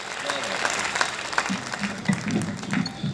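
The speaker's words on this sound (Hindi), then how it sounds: "एक बार पूरा सदन और जोर से तालियां बजा दीपक सैनी" Audience applause at a Hindi poetry gathering (kavi sammelan) in Hansi, with bursts of clapping rising and falling under someone speaking over a microphone.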